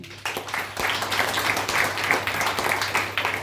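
An audience at a product presentation breaks into sustained, even clapping that fills the room for a few seconds, steady and moderately loud.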